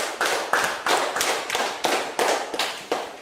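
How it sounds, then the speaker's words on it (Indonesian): A classroom group claps together in a quick, regular rhythm of about eight sharp bursts, loud and close, with no talking over it. "tepuk tangan untuk Selos"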